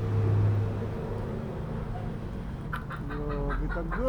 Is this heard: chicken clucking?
yes